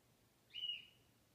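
A single short, faint bird call sounds once at night: a brief thin whistle over quiet background hiss.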